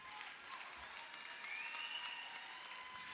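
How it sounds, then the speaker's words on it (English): Graduation ceremony audience applauding steadily at a moderate distance, a dense even patter of many hands that swells slightly midway and holds to the end, with no voices over it. "Please give them a round of applause as they take a seat."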